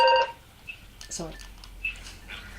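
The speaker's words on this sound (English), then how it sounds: "that was a phone ring" A telephone ringing briefly during a radio show, with a short bright warbling ring near the start followed by faint chirps under quiet speech.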